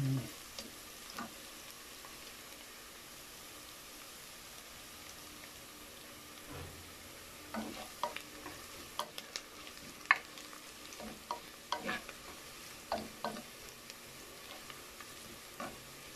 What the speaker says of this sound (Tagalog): mix lang natin. Hanggang sa mag-golden brown.